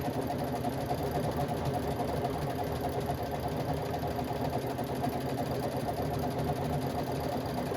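Brother Luminaire sewing machine stitching a row of decorative stitches, a steady close mechanical whir with fast rhythmic needle ticking that runs unbroken throughout.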